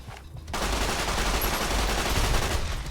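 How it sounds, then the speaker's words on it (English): Submachine gun fire in Fallout New Vegas: a sustained, loud burst of rapid automatic shots that begins after a brief quiet half-second and rattles on continuously to the end. "Submachine gun."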